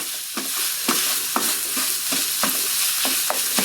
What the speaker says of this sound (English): Now just stir that in. Cook that for about 2, maybe 3 minutes. Just get a little browning happening here.